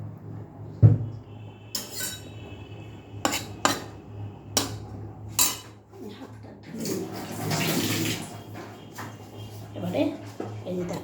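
A little water poured into a cooking pot in a home kitchen, with pot and utensil clatter, sharp knocks and a brief watery splash partway through, while someone talks throughout.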